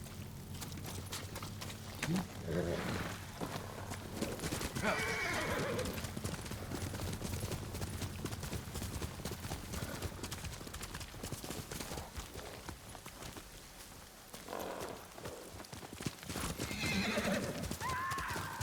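Horses gallop in the Ghost of Tsushima video game, their rapid clip-clop hoofbeats running steadily throughout, with several whinnies and neighs breaking through and occasional game speech over the top.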